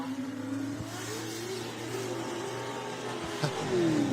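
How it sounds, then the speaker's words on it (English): A V8-powered Nissan 180SX drift car revs hard on a track at a D1GP Malaysia event, its engine note rising and falling continuously and getting louder toward the end. "Plenty of angle in this V8 powered 180SX."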